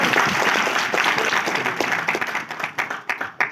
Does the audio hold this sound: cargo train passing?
no